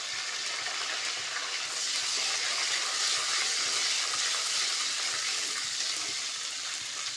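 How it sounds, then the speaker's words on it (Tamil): Curry leaves crackle in oil with sautéed garlic and mint for a rajma gravy, a continuous close sizzle and spatter that swells louder after a couple of seconds and stays steady. "பூண்டு புதினாலாம் வதங்கி வச்சு இப்போ கொஞ்சம் கருவேப்பிலை போட்டுக்கோங்க."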